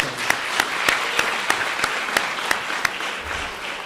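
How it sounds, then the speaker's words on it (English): An audience at a Palestine solidarity event applauds in a dense, steady wash, with a few sharp individual claps standing out at regular intervals throughout. "Another round of applause for Dr. Hatem Bazian."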